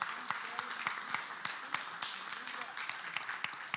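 A church congregation claps in praise, a scattered run of sharp hand claps under a preacher's continuing voice, fairly close and uneven in rhythm.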